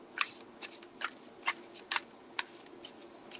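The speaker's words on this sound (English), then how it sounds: "I'm going to go ahead and shuffle" Quick, crisp riffles of tarot cards being shuffled, about a dozen short bursts in an irregular rhythm, close and fairly quiet.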